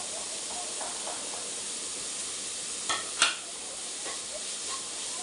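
Carrot, beans and capsicum sizzle and hiss steadily in a pan while being stir-fried for chicken fried rice, with a couple of brief stirring clatters around the middle.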